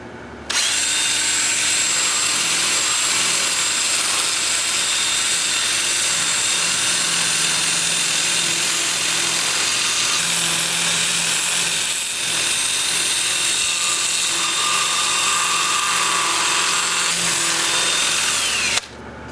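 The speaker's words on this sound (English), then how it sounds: "I'll switch to my 2-inch disc at 180 grit" A 2-inch sanding disc at 180 grit on a drill power-sands a small wood turning, a loud continuous high whir that starts abruptly, holds steady with slight shifts in pitch as pressure varies, then stops cleanly.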